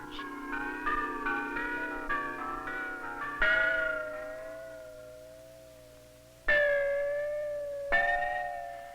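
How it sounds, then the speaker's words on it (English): Ancient Chinese bronze bells from a set of nine ring in slow succession, each clear metallic strike decaying into a long shimmering tone before the next rings out, loud and alone. "This set of 9 bronze bells was found in the tomb of a ruler of a small principality of Tsai"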